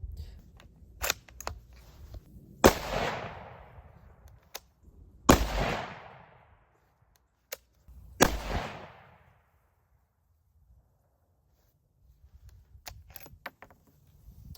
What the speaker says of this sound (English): I've loaded 3 in the magazine, which I will fire a 3-round shot group.